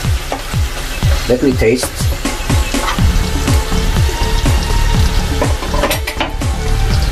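Calf liver sizzles and fries loudly in a pan while a utensil stirs it, with repeated scraping strokes and light clinks against the pan; a voice speaks briefly over the cooking.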